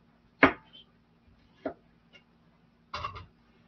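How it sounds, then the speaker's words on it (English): A knife chops onion for a sea bass ceviche: three sharp, separate cuts spaced about a second apart, each a short crisp knock on the board, with quiet gaps between them. "Use a bit more onion. Okay, I'll cut some more."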